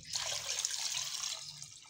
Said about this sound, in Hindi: और अब इसके अंदर हम लोग पानी ऐड करेंगे तकरीबन 1 kg